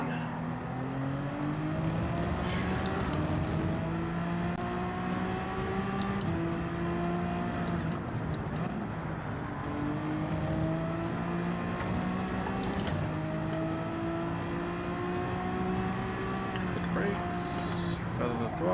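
Race car engines in Gran Turismo 7 during a Manufacturers Cup race at Barcelona, with steady layered engine drones rising and falling through gear changes, heard continuously under ongoing commentary.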